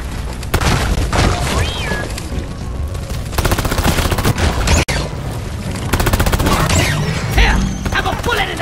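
Rapid automatic gunfire in Deep Rock Galactic during a swarm fight on a mining mission, loud continuous bursts with a short break, layered over creature noise and chaotic combat sounds.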